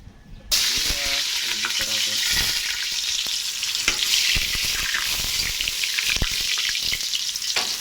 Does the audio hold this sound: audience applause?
no